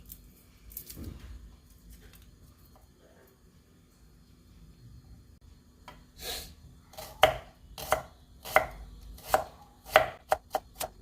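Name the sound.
chopping food with a knife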